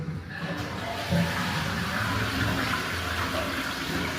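A washroom toilet flushes with a strong, steady rush of flowing water heard up close, filling the whole space without pause.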